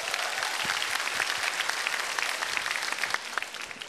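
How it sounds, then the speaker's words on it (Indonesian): Audience applause fills a stand-up comedy show, a dense, steady wash of clapping from a sizable crowd that holds at an even level throughout with no voices over it. "tepuk tangan dulu dong"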